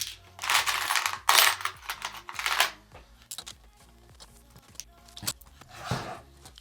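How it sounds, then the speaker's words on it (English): Small 3mm screws are driven through a circuit board into plastic on a homemade R/C Segway build, heard as irregular close clicks, metallic rattles and scraping handling noises in quick bursts with quiet gaps between them. "I'm just putting some 3mm screws through the circuit board and into the plastic."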